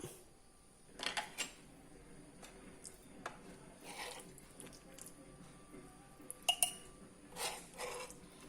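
Homemade oil mango pickle (enna manga) is spooned into a glass bottle in a quiet kitchen, giving a few faint, scattered clinks and light scrapes of utensil against glass with soft pauses between them.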